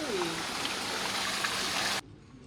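Hot spring water flows at the Chitrakoot temple site in Madhya Pradesh, a steady rushing stream heard close up that cuts off abruptly after about two seconds, leaving faint background noise.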